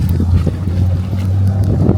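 Wind blowing across an open outdoor building site for a DIY off-grid home, a steady loud rumbling buffet against the microphone with a low constant drone and no speech.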